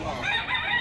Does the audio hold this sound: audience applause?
no